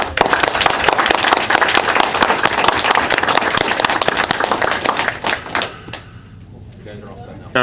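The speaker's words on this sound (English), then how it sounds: "one more round of applause for him" Dense, loud applause from a school board meeting audience fills most of the stretch, then thins out and fades toward the end.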